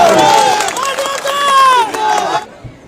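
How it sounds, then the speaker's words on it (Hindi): A crowd at a Seelampur ward political meeting cheers loudly to welcome a speaker, Haji Abdal, with raised voices and shouts layered together for about two and a half seconds before cutting off abruptly. "बहुत जोरदार तालियों के साथ में हाजी अब्दाल साहब का स्वागत"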